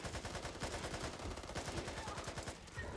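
Gunfire in the Back 4 Blood video game: rapid automatic bursts rattle on nearly without pause, dense and close, with a faint voice underneath.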